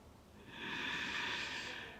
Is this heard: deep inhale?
yes